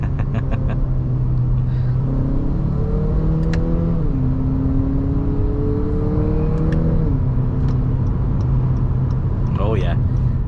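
A 2022 Acura ILX with a 2.4-liter engine accelerates on the road, its steady, loud drone climbing in pitch through gear changes and settling into a continuous cruising rumble.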